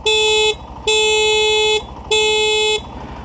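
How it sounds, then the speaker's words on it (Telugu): Three loud, close honks of a Honda Shine 100 DX motorcycle horn, the middle one longest, separated by brief pauses. "హార్న్ విన్నారు కదా"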